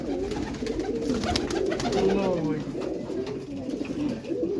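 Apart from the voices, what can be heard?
pigeons cooing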